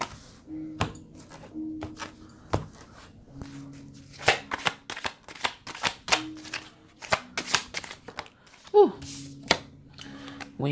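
Oracle cards from an emotional intelligence deck are handled and pulled out one after another, giving irregular crisp snaps and shuffles with soft paper slides between them. Faint music plays underneath, and a voice is briefly audible.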